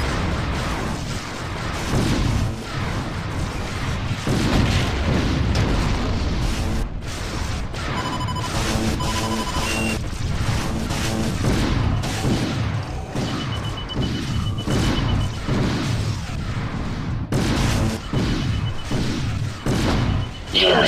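Heavy turret fire and repeated explosions in the space combat game Wing Commander: Prophecy, a dense, continuous barrage of booms and thuds with brief electronic tones mixed in, loud and unbroken throughout.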